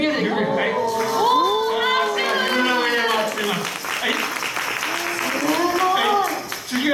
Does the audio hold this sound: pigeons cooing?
no